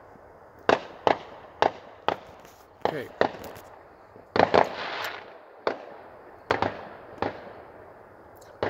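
A series of sharp bangs, some single and some in quick pairs or clusters, spaced irregularly over several seconds; a voice speaks briefly between them.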